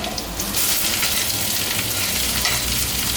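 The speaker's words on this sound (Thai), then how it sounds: "ต้องผัดขิงก่อนนะฮะ" Ginger stir-fries in a hot pan, giving a loud, close, continuous sizzle with stirring scrapes mixed in throughout, and no talking.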